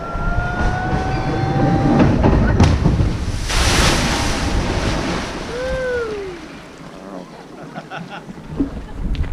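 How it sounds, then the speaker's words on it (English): Loud rushing splash and churning water from the world's oldest water chute, a 1926 ride at Wicksteed Park, with broadband surf-like roar swelling and easing across the clip and a few faint squeaks riding over it. "Just one big splash after another."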